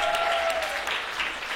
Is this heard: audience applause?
yes